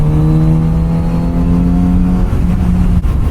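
A Kawasaki Z900 RS motorcycle engine droning loud and close while riding on a road trip, a steady tonal hum that drops briefly as a gear shift interrupts it before resuming.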